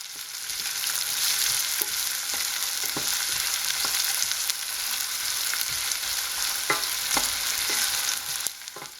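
Onion, garlic and ginger fry in a hot pan with a steady, dense sizzle, while a utensil scrapes and stirs through them in scattered clicks and knocks; close and continuous, with no talking.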